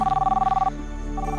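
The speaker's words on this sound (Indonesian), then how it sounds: "Ada telepon." A telephone bell rings in a fast, rattling trill, falls quiet for a moment, then starts ringing again, loud and close indoors.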